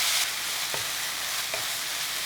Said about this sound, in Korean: 김치 넣고 양파가 익을 때까지 볶아주세요